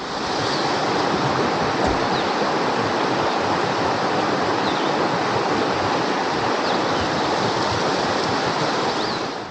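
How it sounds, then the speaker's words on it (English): A creek rushes under a small wooden bridge along the Trans America Trail in North Carolina, making a steady, dense, close roar of flowing water that holds even for the whole stretch with no voices. "Just had to share that little clip of the creek and the water rushing underneath the little bridge."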